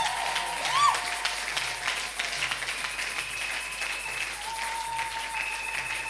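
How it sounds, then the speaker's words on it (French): A church congregation applauds during a Sunday service, sustained clapping over a low room hum with some voices and tones mixed in, continuing steadily for several seconds. "Est-ce qu'on peut applaudir les rois des rois?"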